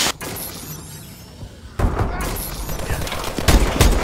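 Hip-fire gunfire in the video game Call of Duty: Advanced Warfare, loud rapid automatic bursts that break out partway through after a quieter stretch, with game noise around them and a voice talking over it.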